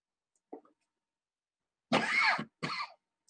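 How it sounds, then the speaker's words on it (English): A single person coughs indoors: one faint short cough, then a louder harsh burst followed quickly by a shorter one, isolated against silence. "Excuse me, coughing."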